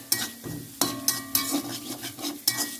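Ginger and garlic fry in a pan for a pickle, with a soft background sizzle broken by several sharp clinks and scrapes of a spatula stirring against the metal, close up and without speech.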